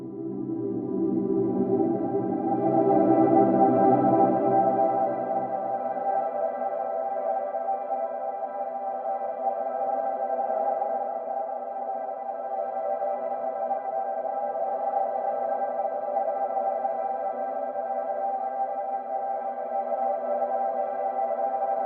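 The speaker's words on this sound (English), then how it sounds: "So I bounced the piano and put it into a granular synthesizer, and I called it Space Choir" A bounced piano part run through a granular synthesizer forms a soft, sustained 'Space Choir' pad. The hazy, steady drone has fuller low warmth early on, then settles into a quieter shimmering hold for twenty seconds.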